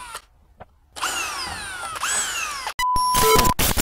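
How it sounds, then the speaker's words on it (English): A power drill whines up and down in pitch over two bursts, bites into wood under a caravan sink, then a louder, harsher grinding drill run ends abruptly. "So we're just going to drill these holes."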